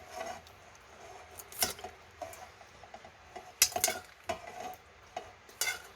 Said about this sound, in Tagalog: Now it's ready to mix.